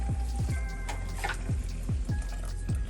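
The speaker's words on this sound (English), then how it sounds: "Next up, I'm going in with some water" Water pours from a pot or tap as a steady splashing stream into a pot of grits, with a low, continuous wash and light gurgling throughout.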